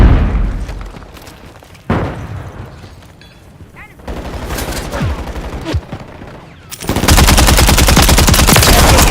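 Call of Duty MW3 battle on PS5: scattered shots and thumping grenade blasts give way to a loud, sustained burst of rapid machine-gun fire, close and dense, with brief game voice callouts underneath.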